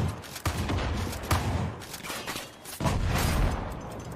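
Rapid bursts of gunfire in the video game Far Cry 5, dense and loud, with a short lull midway before another volley, layered with mechanical game sounds and no voices.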